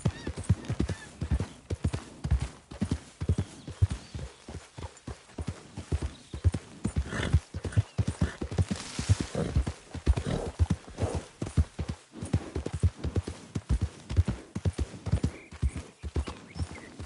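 Steady clip-clop of horse hooves at a walking pace in Red Dead Redemption 2, close and clear, with a brief whinny partway through and faint ambient background.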